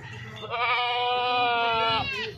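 A Makhi Chena goat at a Qurbani livestock market in Shahpur Kanjra gives one long, loud, wavering bleat, close up over faint background noise.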